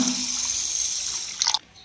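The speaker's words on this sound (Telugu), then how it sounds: "తగినన్ని నీళ్లు వేస్తున్నా." Water is poured onto washed basmati rice in a cooking pot, a steady rushing stream that stops abruptly after a short splash.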